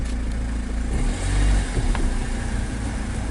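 A 2014 Kia Sportage diesel with ABS and wheel speed sensor faults runs in reverse, its engine droning steadily close by and swelling briefly midway as it pulls back.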